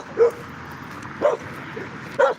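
A small dog gives three sharp, separate barks spaced about a second apart, fairly close, with some whimpery yipping and no speech over them.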